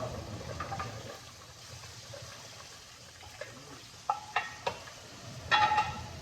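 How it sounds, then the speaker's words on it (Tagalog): Beef stirred and sautéed in a pot as the base for a soup, a soft low sizzle under quiet scraping and stirring, with a few sharp clinks of a utensil against the pot near the end. "Palambutin niyo yung baka, tapos igisa ninyo."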